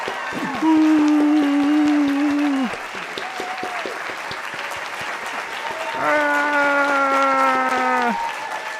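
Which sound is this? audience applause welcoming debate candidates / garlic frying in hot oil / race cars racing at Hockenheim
audience applause welcoming debate candidates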